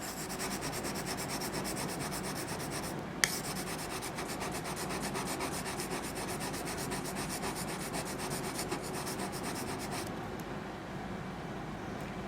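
Steady back-and-forth rubbing of a knife edge across an oiled sharpening stone, a continuous close scraping texture with one sharp click partway through, no talking.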